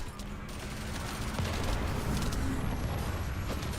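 In The First Descendant, a shooter video game, explosions and gunfire merge into a steady, dense roar of rumbling blasts and crackling shots that fills the whole stretch without a break.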